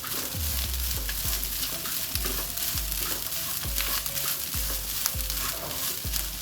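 Grated coconut tossed with drumstick leaves warms in a pan, a steady close sizzle with rhythmic scraping stirs repeating about once a second, no talking.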